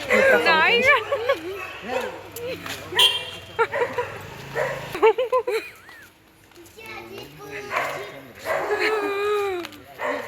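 A dog barks repeatedly during a family walk, the yaps and whimpers mixed with excited, frightened children's voices and adult talk, loud and close at first, then easing before rising again.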